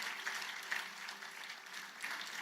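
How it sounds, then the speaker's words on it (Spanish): Church congregation applauding at a Spanish-language service, a soft, steady patter of many hands heard from a distance at low level, continuous with a few slightly louder swells. "aplauso al Señor"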